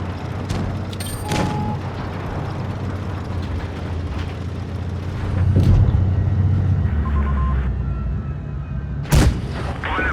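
Heavy tank cannon booms in World of Tanks Blitz, from the ARL 44-based BP44 tank, go off a few times amid a constant engine rumble, with one sharp loud blast near the end.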